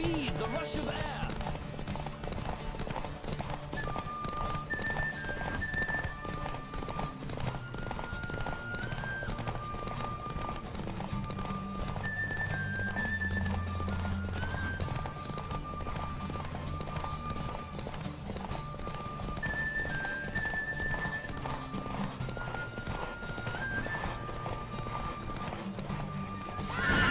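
Horse hooves gallop in a continuous fast clip-clop throughout a race in The Witcher 3, steady and prominent, with game music and occasional voices over it.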